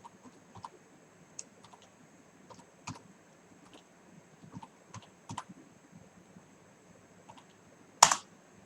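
Light, sparse keystrokes on a computer keyboard during Python coding, scattered quiet taps spread over several seconds, then one sharp, louder Enter key press near the end.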